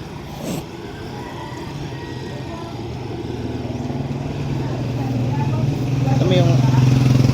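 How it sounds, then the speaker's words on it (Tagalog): Motorcycle engine on a road, a rumbling idle that grows steadily louder and nearer over several seconds, with a brief sharp knock early on and a person speaking over it. "Sobrang ingay ng motor niya."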